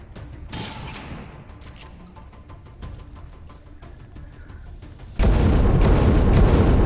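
Gunfire in the tactical game XCOM 2 starts with scattered shots, then erupts into a loud, sustained volley of booming fire that carries through to the end.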